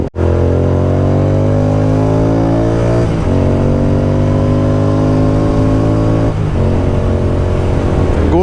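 A Continental GT650 motorcycle engine revs loud and close, its droning pitch climbing steadily, with two brief dips where the tone drops and then rises again.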